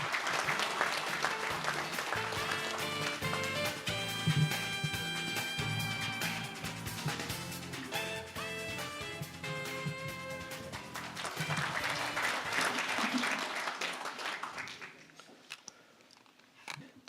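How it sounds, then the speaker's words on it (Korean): An audience at a Buddhist forum applauds to welcome a senior monk to the podium, the clapping blending with ceremonial music that swells through the middle before both fade out. "큰 박수로 맞이해 주시기 바랍니다"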